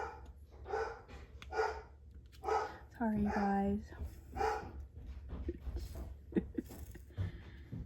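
A dog barks indoors, probably at the mail carrier. There are several sharp barks spaced through the stretch and one whining, yelping cry in the middle, while someone talks over and between them.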